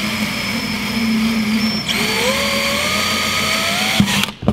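A power drill running while drilling inside a van, a loud continuous whine whose pitch shifts midway, with a sharp knock and a quick stop at the end.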